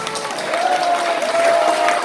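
Applause from an audience at a Korean legal symposium, a steady patter of many hands clapping at moderate volume for a couple of seconds, with a faint voice threaded underneath.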